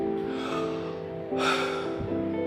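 Power breathing in the Wim Hof method: a sharp, forceful inhale with airy rush midway, over a steady low background hum, with no talk.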